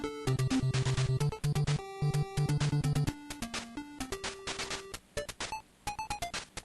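Chiptune music from an NES or SNES game plays back in bright square-wave tones, with bass and lead channels dropping in and out partway through so the texture thins to sparse melodic blips, loud and alone.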